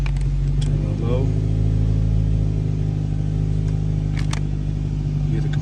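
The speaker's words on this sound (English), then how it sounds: "Yeah, the compressor comes on." A Nissan Sentra idles with its AC compressor engaged, giving a steady low mechanical hum and drone throughout, with faint clicks and light rattles over the running engine.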